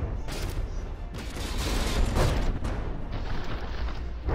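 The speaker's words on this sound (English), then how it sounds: "Jani Jipya just straight up missing an entire volley there" Artillery fire from warships in the naval combat game From the Depths, a loud, dense rumbling barrage of overlapping booms and blasts that rises and swells across the stretch, with no talk.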